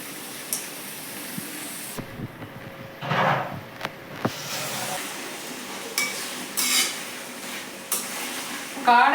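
Quail frying with onion and tomato in a pan: intermittent stirring scrapes and utensil knocks over a soft sizzle, with a few sharper clatters and quieter gaps, heard close up.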